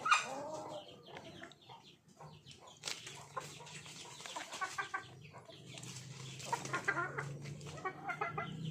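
Farm chickens and a rooster cluck steadily in a rural provincial yard, with scattered sharp squawks and crowing calls over a low continuous hum, close and moderately loud throughout.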